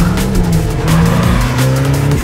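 A Ferrari Roma pulls away hard, its tyres squealing loudly over a rising engine note. The sound is close and continuous and stays sustained until it cuts off.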